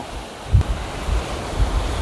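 Strong wind on the Atlantic coast in Spain buffets the microphone in low, rumbling gusts over a steady roar of surf, loud and continuous with no voices.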